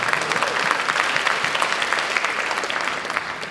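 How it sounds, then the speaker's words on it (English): Loud, sustained clapping from an audience at a high school awards ceremony, many hands beating in a dense, even roar that fades slightly toward the end. "We can clap that up"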